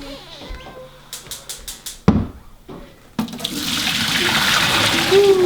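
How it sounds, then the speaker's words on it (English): Salty fabric dye water is poured out of a container, starting with scattered clinks and knocks and then becoming a loud, rushing, splashing stream that keeps building to the end. "so we'll pour it out and we'll take a look and see how the fabric looks"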